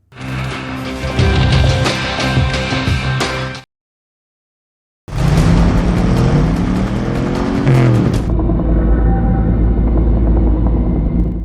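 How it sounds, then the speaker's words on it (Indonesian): Racing cars in a drifting race film roar loudly and continuously, with engines revving and whining, a sudden cut to silence partway through, then more engine roar followed by a lower, steadier drone. "Balapan pun dimulai, di mana Ji Hao menggunakan mobil milik mendiang Su Chao"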